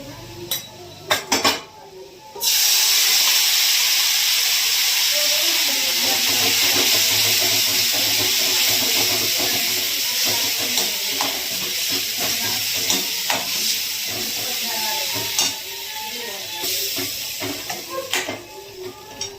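Vegetables and red chili powder hit a hot Marathi-style tempering, setting off a loud, continuous steamy hiss and sizzle after a few clinks of pots and utensils.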